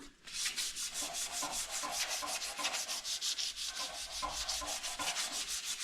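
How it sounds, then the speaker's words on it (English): Steady rhythmic sanding of primed areas on a 1932 roadster car frame, a rough scraping rub repeating in quick strokes, close and loud with no talking. "We are sanding the places on the frame that were primered."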